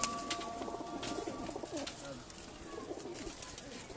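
A flock of mixed-breed pigeons, Sialkoti, Salara and golden birds, coo and murmur in a loft, a steady low chorus with occasional sharper flutters and clicks.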